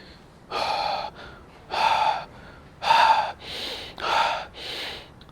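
Deep breaths drawn during a calming breathing exercise: about six slow, strong airy breaths, close and alone, each swelling and fading with short pauses between.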